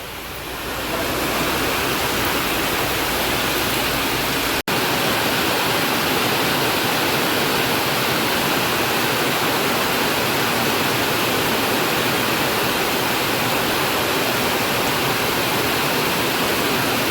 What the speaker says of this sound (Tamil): மழை பார்த்தீங்கன்னா நல்லா பெஞ்சிட்டே இருக்குது.